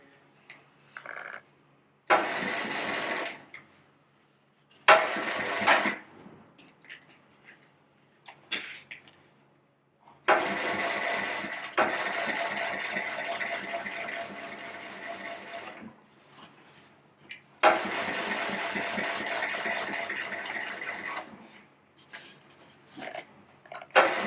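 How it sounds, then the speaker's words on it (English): Sewing machine stitching along the edge of a bag in several bursts of steady whirring, some short and some long, separated by quiet pauses. "So we're stitching about 1/4 inch away from the edge of the bag."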